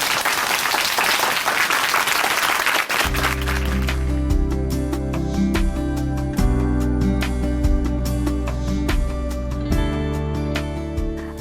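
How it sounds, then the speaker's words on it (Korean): Applause from a church audience welcoming a speaker fills the first three seconds, then gives way to loud, sustained instrumental music for the rest. "춘천한마음교회 이화영 자매님 박수로 모시겠습니다"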